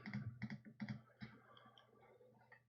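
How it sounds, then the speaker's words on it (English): Computer keyboard keys pressed as hotkeys during an online poker game, a quick cluster of crisp close clicks and taps, then a few lighter scattered keystrokes, with no talk. "Yeah, I'm normally using keyboard hotkeys."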